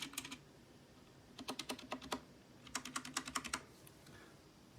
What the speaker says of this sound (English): So here's the typing noise.